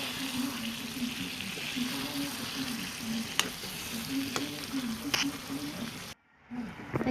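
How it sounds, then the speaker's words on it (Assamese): Chicken sizzles and bubbles in a pan of masala with water as it is stirred, a steady close frying hiss with occasional sharp utensil clicks, cutting out briefly near the end before resuming. "চিকেনখিনি দিয়া হোৱাৰ পিছত আকৌ লৰাব।"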